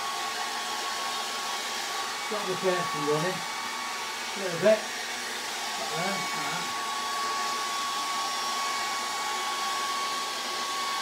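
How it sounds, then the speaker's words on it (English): A hair dryer blows steadily throughout, used on wet acrylic paint, a constant airy whir with a few brief murmured words over it. "I'm going to use a hairdryer"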